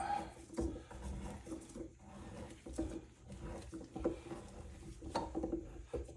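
Steel tap threading into a hole in a clean cast lathe part, producing low scraping and rasping bursts with soft creaks and gritty rubbing strokes, close and fairly quiet, no talking.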